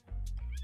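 A voice imitates a cat's meowing with two drawn-out, close, moderately loud meow calls, one after the other.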